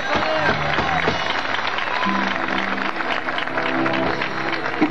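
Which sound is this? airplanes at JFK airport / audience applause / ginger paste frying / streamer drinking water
audience applause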